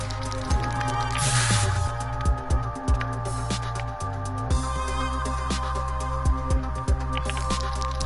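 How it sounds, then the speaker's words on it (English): Graffiti being sprayed in the video game Hover, hissing spray bursts and squishy game effects over a steady electronic music bed, with repeated short sharp thumps and no talking. "Spray graffiti."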